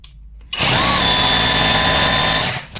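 An Assur corded impact drill whirs loudly and steadily for about two seconds after a short quiet start, then winds down.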